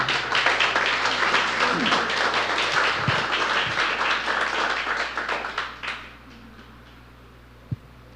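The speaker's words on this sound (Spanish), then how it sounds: "Invito a la iglesia a que le demos un aplauso, por favor, de bienvenida." Church congregation clapping in welcome, a dense, steady round of many hands that fades out after about six seconds, leaving quiet room tone and one stray clap.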